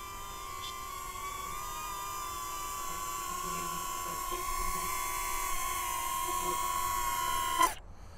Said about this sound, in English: the drone comes back to you